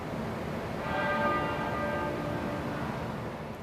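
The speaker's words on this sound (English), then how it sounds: "To the tolling of a single bell" A single church bell tolls at the Queen's state funeral outside Westminster, its sustained ringing tones swelling and hanging over a steady crowd-and-air wash, with no speech.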